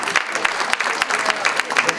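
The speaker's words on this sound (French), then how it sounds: "On peut l'applaudir." Brief burst of audience clapping at a journalists' evening event, close and uneven with individual claps standing out, with voices mixed in.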